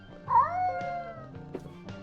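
A cat sound plays as a laughing easter egg in a video game, a close, warbling meow-like call that rises and then stutters in short bursts over a steady low background hum.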